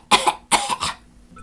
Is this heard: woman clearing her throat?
yes